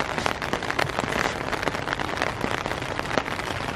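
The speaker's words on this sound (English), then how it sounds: "Still just raining super hard." Dense, steady downpour drumming on taut fabric overhead, a constant close hiss with scattered sharper drops.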